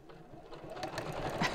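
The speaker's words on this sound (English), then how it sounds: "And we'll sew the way around." A sewing machine stitches fabric with a quarter-inch seam allowance, a brief steady mechanical whir that builds slightly over a second and a half, close and alone.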